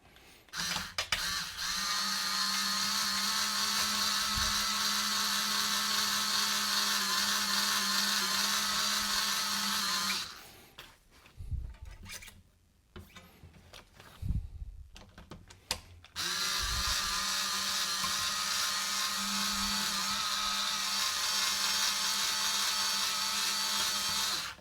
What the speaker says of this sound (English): So at this stage, to make things quicker, I like to use my winder tool here.